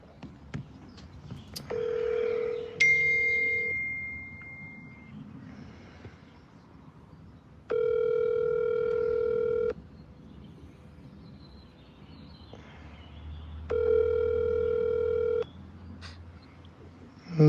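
An outgoing telephone call produces a few brief dialing tones, then two long, steady ringback tones separated by quiet pauses. The tones are clear and electronic against faint background hiss.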